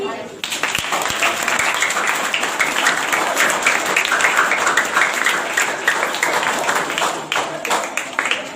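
Students at a school science competition prize ceremony break into a long burst of applause, a dense, steady patter of many hands nearby, with voices talking and calling under it before it tapers off.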